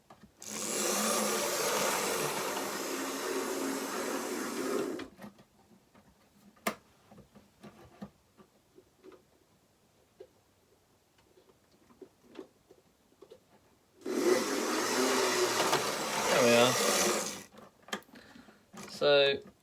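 A small electric motor in a 1980s Lima class 55 model locomotive whirs steadily for several seconds, falls quiet amid faint clicks and handling noises, then buzzes up again noisily.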